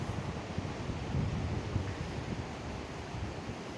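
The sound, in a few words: roaring Cares river in a gorge, northern Spain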